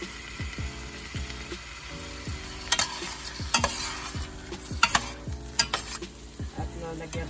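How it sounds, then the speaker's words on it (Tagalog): A spoon stirs chicken in coconut milk with papaya in a pan, scraping in a steady repeated rhythm over a low simmer, with a few sharper clinks against the pan. "Kailangan halo-haloin ng mabuti para mas lumasa ang mga ingredients."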